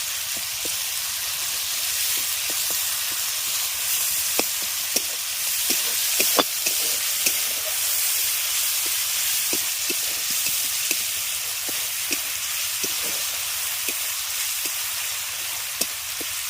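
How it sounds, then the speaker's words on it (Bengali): Spice paste with chopped tomato and green chili fries in a pan, a continuous bright sizzle broken by regular sharp scraping taps of a spatula stirring, heard alone at close range. "এবার মশলাটাকে খুব ভালো করে কষিয়ে নেবো"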